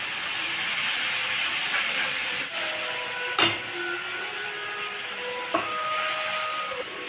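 A paste of poppy seed, mustard and green chilli sizzles in hot oil with fried onions, a constant hissing frying sound with a few sharp pops and clatters of a utensil against the pan.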